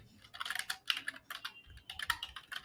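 Quick bursts of keystrokes on a computer keyboard, close and crisp, with irregular clusters of taps separated by short pauses and no voice.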